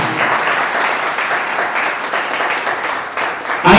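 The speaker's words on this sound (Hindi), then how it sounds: "एवं जोरदार तालियां।" A crowd at a Jain temple chariot procession festival breaks into loud, sustained applause, dense overlapping clapping that stays strong throughout before a brief swell at the very end.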